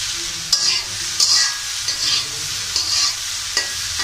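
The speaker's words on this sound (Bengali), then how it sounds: "খুব সুন্দর ঝরঝরে ঢেঁড়স ভাজি হয়ে যাবে। অনবরত মেরে আমি এটা ভাজব।" Okra frying in a pan while being stirred continuously, a steady close sizzle punctuated by regular scraping strokes of the spatula against the pan.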